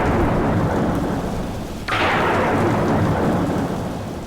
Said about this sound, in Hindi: भरी बरसात भी हो रही है